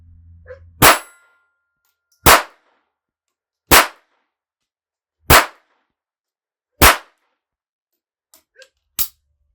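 Six sharp, evenly spaced shots from a 1959 Beretta 950B pistol in .22 Short fired at a target 15 yards away, each a loud crack with a brief decay, and a faint click just before the last.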